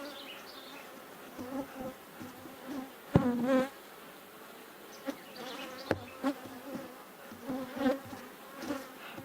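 Honey bees buzz close by during a hive inspection while a colony is being split, with individual bees passing near in rising and falling whines over a softer background hum.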